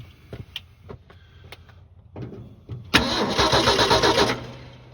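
A 1968 Ford F100 with a 240 inline six cranks over: a few faint clicks and short bursts, then a loud, rhythmic starter churn for about a second and a half before it stops.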